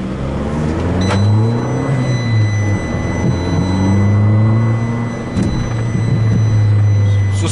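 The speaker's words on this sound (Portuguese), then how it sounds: "Tá com o escapamento fazendo um barulhão aí, pessoal." A loud, rumbling exhaust of a Fiat 500 Abarth 1.4L turbo four-cylinder drones steadily close by, its low pitch rising and falling as the motor revs.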